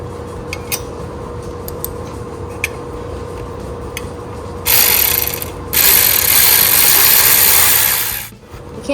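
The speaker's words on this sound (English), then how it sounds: "Screw the bracket underneath the motor." Screws being driven into a motor bracket on an old Wheel Horse tractor give a steady mechanical ratcheting close by, rising to a louder, harsher grinding burst about halfway through before it tapers off.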